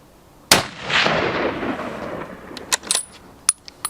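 A single sharp, loud gunshot cracks out during recoil testing, followed by a long rolling echo that fades over a couple of seconds, then a few faint clicks and knocks of handling.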